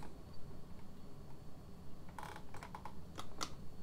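A few sharp plastic clicks from toggle buttons in a flight simulator game, in short bunches over a steady low hum, close but quiet.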